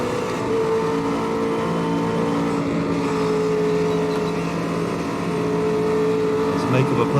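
McLaren 720S GT3 race cars brake at the Nordschleife in Automobilista 2, a steady droning engine roar with shifting whine tones holding throughout, fairly loud and continuous.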